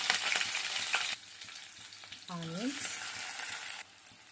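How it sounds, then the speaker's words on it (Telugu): Cumin seeds and green chillies frying in hot oil, a loud continuous sizzle with stirring clicks, easing slightly midway and then rising again before dropping off at the end. "ఆయిల్ హీట్ అయ్యాక జీలకర్ర వేసుకోండి. ఇందాక నేను చెప్పడం మర్చిపోయాను. జీలకర్ర వేడవగానే పచ్చిమిర్చి,"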